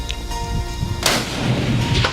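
A rifle shot rings out at an outdoor hunting shooting competition, a single sharp, loud blast about midway through with a rolling tail, over faint background noise.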